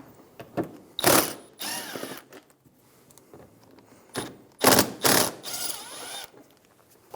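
A hand ratchet with a 5.5mm socket backs out inner fender liner screws on a Ford Expedition. It gives several short, crisp bursts of clicking, separated by quiet pauses and light handling noise.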